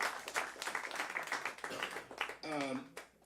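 A concert audience applauds a singer, soft and fairly distant clapping rising and falling, while a voice talks over it and a brief sung or spoken tone appears toward the end.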